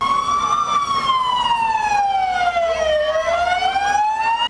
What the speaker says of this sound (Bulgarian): Обучението започна с едноминутен вой на сирени в памет на всички деца,